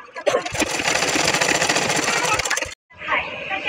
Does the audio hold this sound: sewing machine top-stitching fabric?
yes